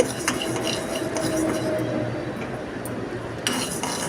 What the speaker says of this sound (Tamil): நல்லா கைவிடாமல் கிண்டுங்க கருகிடக்கூடாது